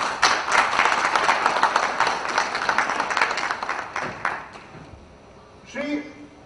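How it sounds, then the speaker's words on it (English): Audience applause at a government technology event in Bihar, a dense burst of clapping that fades out over several seconds, followed by a short voice. "Can we have a huge round of applause?"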